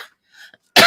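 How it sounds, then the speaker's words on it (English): A single cough from a woman with a chronic cough at a virtual studio art session, a short sharp loud burst near the mic after a faint breathy sound. "I have a chronic cough"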